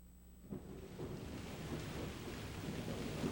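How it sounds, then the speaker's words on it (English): Rain and wind sweep in, a steady wash of falling rain with gusty rushing air building from a quiet start into a full, even downpour with low rumbling. "just listening to the rain and the wind"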